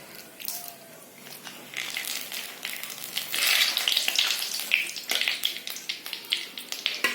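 Cumin seeds and bay leaf sizzle and crackle in hot oil, a steady frying hiss that swells in intensity partway through, with scattered pops and no talking.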